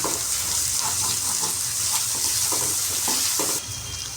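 Salt being stirred into a rohu fish curry mixture, a steady wet scraping and swishing with soft rhythmic strokes, close and continuous, with a faint sizzle-like hiss underneath and no talking.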